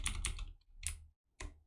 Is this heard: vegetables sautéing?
no